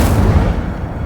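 A burst of Incendio fire spell in Hogwarts Legacy, a loud dense whooshing blast that fills the whole moment with heavy low rumble and no voice over it.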